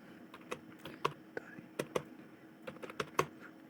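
Light tapping of a mobile phone's on-screen keypad while entering a bank account number, a scattered series of quick soft clicks in a quiet room, with someone speaking faintly between taps.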